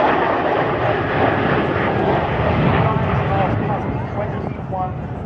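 Avro Vulcan Mk II XH558 delta-wing bomber with Bristol Olympus 101 turbojets roaring overhead at the Dunsfold Wings & Wheels air show in Surrey, a loud sustained broadband engine rumble filling the whole clip under an announcer's commentary.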